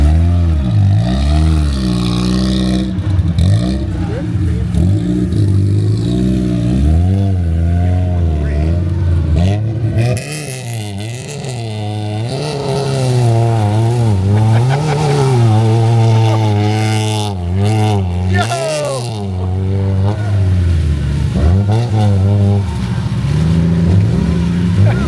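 Lifted Mazda Miata engine revving hard during a clutch kick, loud and close, with rising and falling revs throughout and voices talking over it.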